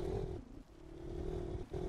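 A 1984 Honda ATC 200X three-wheeler engine in Farming Simulator 2019 drones at a steady mid-pitch, briefly dipping then resuming, heard close and moderately quiet with no talking.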